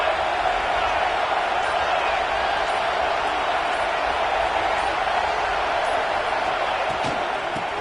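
Dense, steady roar of a college football stadium crowd during a game, loud and continuous throughout with no clear breaks or peaks.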